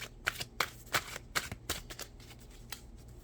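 Tarot cards are shuffled and slid off the top of a deck during a card reading, a run of crisp papery flicks and snaps at an uneven rhythm, close and fairly quiet, with no talking.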